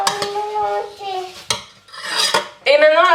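Chickpeas and potatoes are mixed together in a bowl, with wet squelching and scraping strokes plus sharp clicks of a utensil against the bowl in uneven bursts, close up and without speech.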